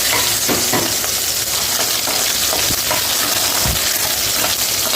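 Small sambar onions sauté in hot oil for a bitter gourd curry, a loud, continuous close-up sizzle with occasional stirring scrapes and knocks against the pan.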